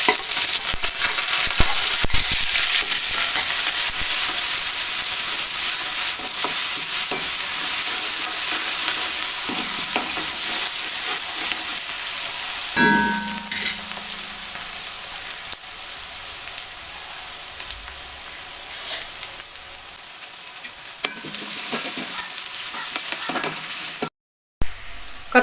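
Mustard seeds, crushed shallots and garlic sizzle and crackle loudly in hot coconut oil, a steady close-up frying hiss with occasional stirring scrapes and pops, no talking.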